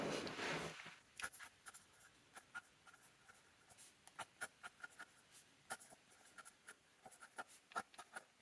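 A black fountain pen with a medium nib scratches across paper in short, quiet, irregular strokes with small pauses between them, close up and alone, without any talking.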